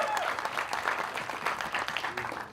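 An audience claps loudly and continuously for Sunny Deol at a Border 2 teaser event, a dense, sustained round of applause with scattered crowd noise mixed in.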